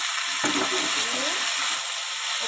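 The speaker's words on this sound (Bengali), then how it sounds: "সেদ্ধ করা মোচাগুলো এবার আমি কড়াইতে দিলাম" Boiled banana flower dropped into hot oil in a wok, a loud steady sizzle and crackle filling the whole stretch, with a brief clatter as it goes in.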